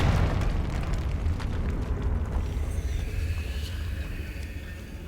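A Confringo spell explosion in a video game, a loud booming blast with a heavy low rumble that slowly fades over several seconds.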